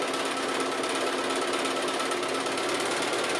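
A sewing machine runs steadily and fast, its needle hammering in a dense, continuous mechanical buzz at close range with no pauses.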